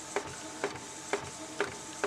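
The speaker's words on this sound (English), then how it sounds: "so I'm just printing one using their paper right now" A printer feeds sticker label paper from OnelineLabels, giving five evenly spaced mechanical clicks roughly half a second apart over a quiet, steady whir, close and fairly soft.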